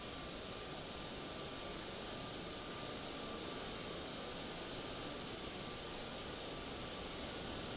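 A helicopter's engine and rotors in a video game give a constant, loud whine and roar with a thin high tone on top, steady for the whole stretch, with no talking.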